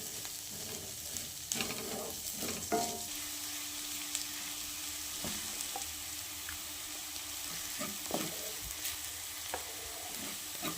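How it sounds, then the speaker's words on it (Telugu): Green chilies and garlic frying in a pan for a home curry, a steady close sizzle with occasional scraping stirs and light clinks over the hiss, no talking. "ఈ పచ్చిమిర్చి వెల్లుల్లిపాయలు కూడా మగ్గే వరకు కొంచెం వేపుకుందామండి"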